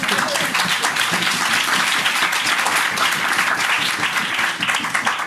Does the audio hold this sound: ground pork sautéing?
no